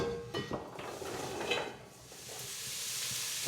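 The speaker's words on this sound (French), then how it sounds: "pendant que les carottes sont en train de revenir, enfin les carottes et l'oignon sont en train de revenir" Diced carrots and onion sauté in olive oil in a cocotte, a soft steady sizzle with a few light clinks and stirring scrapes, fairly quiet and close.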